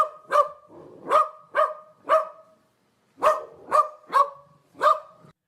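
A dog barks eight times, sharp and close, in two groups of four with a short pause between them, and no talking.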